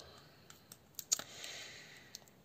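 A Pokémon card box is being opened: quiet, scattered clicks and light plastic or cardboard taps, one slightly sharper snap in the middle, with a faint rustle behind.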